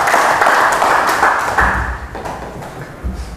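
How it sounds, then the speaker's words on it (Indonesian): A classroom audience applauds with steady, dense clapping that stays loud for a few seconds and then thins out, with a few separate claps standing out near the end. "Wah, tepuk tangan,"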